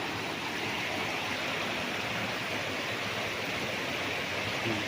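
Water flowing from a spring at a resort property in Liliw, Laguna, a continuous soft rushing like a small stream, even and unbroken with no voices.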